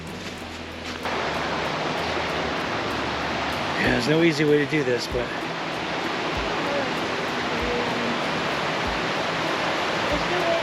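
Broadband rushing of a swollen, high creek on the Laurel Run trail runs steadily throughout at close range, with people briefly talking over it midway.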